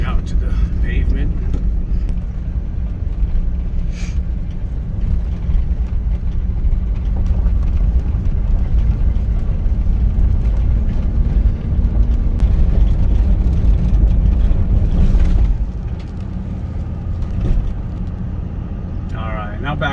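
A third-generation Toyota 4Runner with swapped-in Tundra struts rolls along a dirt road, a steady, loud low rumble of engine and tyre noise throughout, with a brief dip in level near the end and talk over it.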